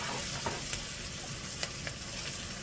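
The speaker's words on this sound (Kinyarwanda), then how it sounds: "Tumaze gukaranga ibi birungo byacu" Spices frying in a pan give a steady, close sizzle, with a few sharp clicks and scrapes from stirring scattered through it and no voices.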